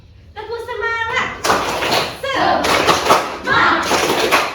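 Schoolchildren in a primary classroom chant and clap together in a rhythmic spirit clap, loud bursts of claps and thumps mixed with their shouting voices close by.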